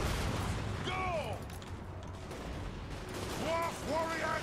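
Troops firing guns in a Total War: Warhammer 2 battle: a dense, continuous roar of distant gunfire and battle noise, with shouting voices rising over it.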